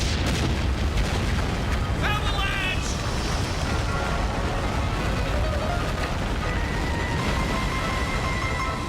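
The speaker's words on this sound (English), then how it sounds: "Detonate the charges!" Detonated charges blow up on the ice in a 1995 Street Fighter animated series, a loud, sustained rumbling blast layered with debris and effect sounds that fill the entire stretch.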